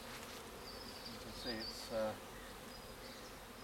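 Honey bees buzz faintly at an opened hive after winter, a soft steady drone with a couple of louder passes as bees fly near, while a person speaks briefly and quietly.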